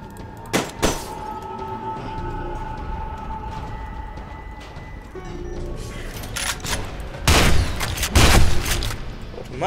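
Automatic shotgun blasts from F.E.A.R. 2, a few loud booming bursts early on and a heavier cluster of shots near the end, over steady game background noise.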